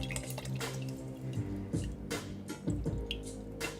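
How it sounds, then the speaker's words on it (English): Paint brush swished and rinsed in a cup of water, giving close splashy drips and clinks against the container in uneven bursts, alone with no talk. "Need to rinse my brush."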